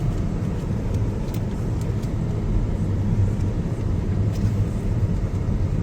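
Cars on a road where the snow has partly melted give a continuous low rumble of traffic, heard steady and fairly loud as from inside a moving vehicle, with no one talking.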